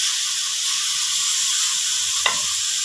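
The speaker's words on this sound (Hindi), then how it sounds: "इसके भी हम थोड़ा सा फ्राई कर लेंगे।" Capsicum and carrot, both finely chopped, sizzle in a frying pan with a steady, even hiss and one brief stir midway, and no voice is heard.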